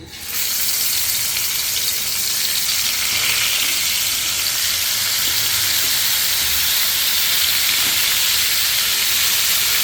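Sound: koi fish frying in hot oil in frying pan

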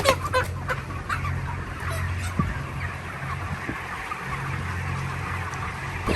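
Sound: poultry chickens clucking on a farm

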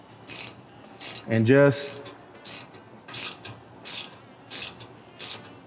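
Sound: socket wrench ratcheting to tighten rack bolt on Polaris UTV

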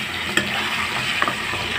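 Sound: garlic frying in a pan

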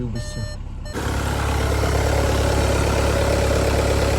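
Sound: Volkswagen Passat B8 2.0 TDI engine idling

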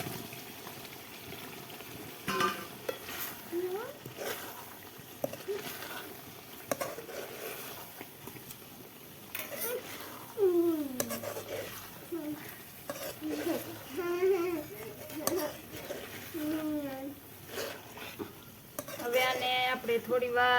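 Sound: potatoes cooking in spiced masala on low heat

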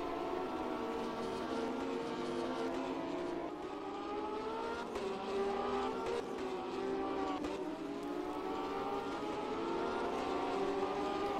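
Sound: Porsche Supercup race car engine at Croix-en-Ternois race

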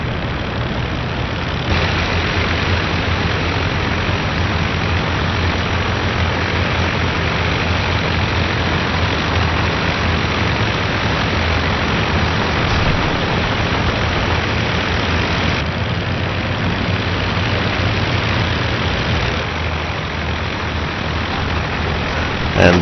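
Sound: WWI aircraft engine running in the video game Rise of Flight

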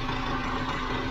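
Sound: Wuling car engine idling

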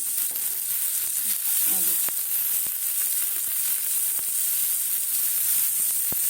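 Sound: carrots and cauliflower sizzling in a pan for vegetable soup

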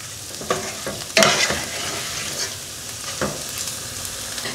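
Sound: stirring spice powders into biryani mixture

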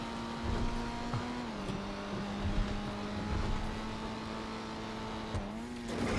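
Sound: car driving in GTA video game

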